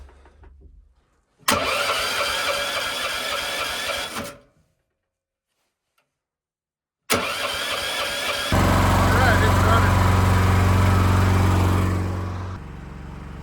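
Engine on a rink-flooding machine with a choke and a heated transmission cranks and catches in two loud bursts separated by silence, then settles into a steady, even idle for several seconds, all close to the mic.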